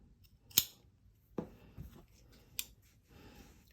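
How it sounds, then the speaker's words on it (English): Scissors snip through fabric while a two-piece collar is trimmed at the corner, a few sharp, quiet close-up cuts separated by short pauses. "in this corner, what I'm going to do is I'm going to cut straight across and then more acutely"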